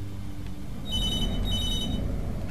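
A telephone rings in the video game Beyond: Two Souls, two bursts of an electronic bell tone heard fairly faintly over a low ambient hum.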